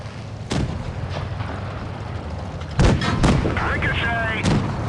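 Tank cannon shots in a T20 tank video game, with heavy booming reports landing at intervals and a metallic ricochet whine as a round bounces off the gun mantlet, over a low engine rumble.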